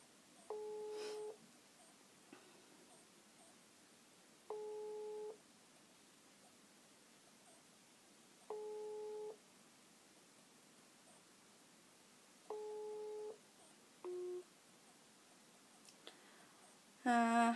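A telephone busy signal on a call repeats as evenly spaced faint tones, four identical beeps then a shorter one, over a quiet hiss.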